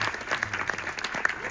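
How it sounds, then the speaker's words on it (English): Audience at a Color Purple cast Q&A clapping, a short, uneven patter of individual claps with some crowd noise and sharp peaks, lasting under two seconds. "Let's give another round of applause."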